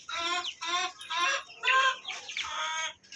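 Chickens cluck and call repeatedly in short overlapping bursts on a poultry farm where pigeons are also kept, moderately loud and close with no talking.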